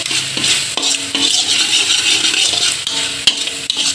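Seblak with chili sauce stirred in a pan, a loud continuous wet scraping and sizzling with rhythmic clinks of the utensil against the pan, close and without talk.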